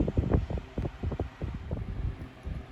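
A 1996 Super 12-inch desk fan fitted with new blades runs close by, giving a steady breathy whoosh with a rough, slightly shaky fluttering pulse throughout.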